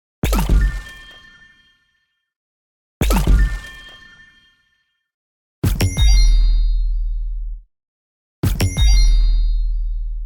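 UI and HUD sound effects for Plants vs Zombies Garden Warfare 2, built from bright layered bell dings and low sub hits: four separate hits, two sharp ringing chimes, then two with a heavy, sustained low boom beneath the bell tone.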